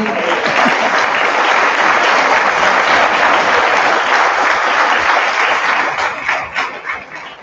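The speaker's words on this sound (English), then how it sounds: "that applause also reached across the ocean to Julia Wright" A large audience applauds the descendants of the 1919 Elaine, Arkansas massacre at a commemorative event: sustained, dense clapping that holds steady for several seconds, then thins into scattered claps and fades.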